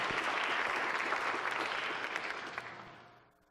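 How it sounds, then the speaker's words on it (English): Round of applause from a dinner-event audience honoring a toastmaster, dense steady clapping from many hands that holds strong, then thins and fades away near the end. "Round of applause."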